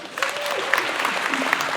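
Audience applause at a construction workers' union branch general assembly, a steady dense patter of clapping that runs throughout, with a voice heard faintly underneath.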